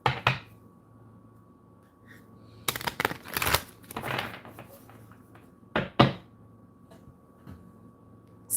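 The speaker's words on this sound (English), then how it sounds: "We're going to shuffle this deck really good." A deck of tarot cards being shuffled, heard as a few short bursts of riffling and soft thumps separated by quiet pauses, close and fairly soft.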